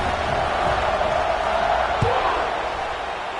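Football stadium crowd at a Penn State vs. Tennessee kickoff, a broad, steady roar filling the space with one sharp thump midway, no clear talk.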